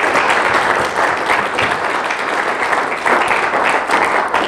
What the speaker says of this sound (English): I think we should give a big round of applause to the providers in here